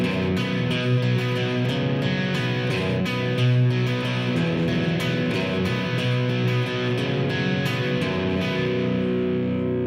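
Electric guitar with a distorted, effected tone plays a tune of double stops, two-note shapes ringing together in a steady, continuous phrase, close and fairly loud with no talking.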